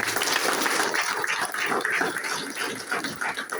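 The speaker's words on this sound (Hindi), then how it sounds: "मैं चाहूंगा इन सभी सर लोगों के लिए एक बार जोरदार तालियां" An audience at a business training meeting claps hard, a busy, rushing mass of applause heard at moderate distance that eases slightly toward the end.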